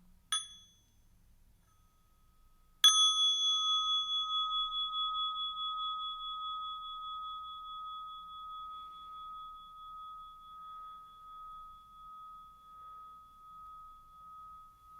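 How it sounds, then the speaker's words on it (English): A meditation bell is lightly touched once, then struck clearly, its pure ringing tone sustaining and slowly pulsing as it fades over many seconds in near silence. "And then invite the bell."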